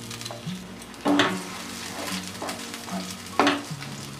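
Cauliflower leaf paste stir-fries in a pan with a soft continuous sizzle, broken by a few louder spatula scrapes and knocks against the pan, close up and with no voices.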